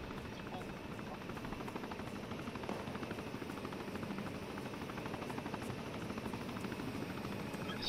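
Helicopter in the military video game ArmA, a steady loud rotor chop with rhythmic blade pulses and engine whine, continuing throughout.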